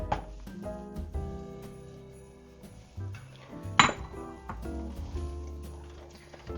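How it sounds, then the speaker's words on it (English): Sugar going into a pot of creamy cooked rice pudding, a run of soft clinks and scrapes from a spoon against the pot with one louder clatter midway, close and moderately quiet. "We're going to add our sugar."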